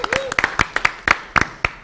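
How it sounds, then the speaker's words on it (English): Sparse clapping from a handful of people at a school board meeting: distinct, separate claps in an uneven rhythm over about two seconds, with a brief voice at the start. "We can give a hand of applause for that."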